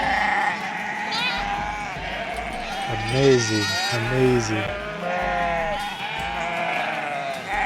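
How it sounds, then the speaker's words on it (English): Goats on a farm bleat at feeding time, with several wavering, drawn-out calls rising close by amid general barnyard noise, while someone talks over them. "These are beautiful goats"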